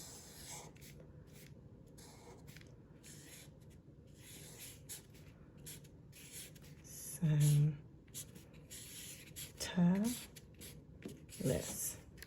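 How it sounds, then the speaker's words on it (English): A Sharpie marker writes a name, its tip making a run of soft scratchy strokes with short pauses between them, while someone talks throughout and a few louder vocal bursts cut in near the end. "with the Sharpie, you're going to write your name"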